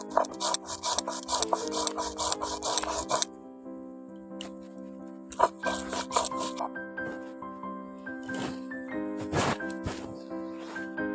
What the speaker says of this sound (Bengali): এই উপকরণগুলো ভালো করে বেটে নেব